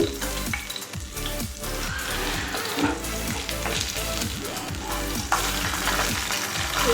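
Potatoes sizzling and frying in a pan in a home kitchen, a steady close crackle with repeated low stirring scrapes and no talking.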